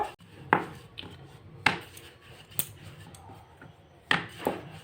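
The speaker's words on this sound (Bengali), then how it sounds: "রুটিটা আমি একটু মোটা করে বেলবো" Thick flatbread dough being rolled out with a rolling pin on a floured board, with a few separate wooden knocks and thumps over quiet background handling.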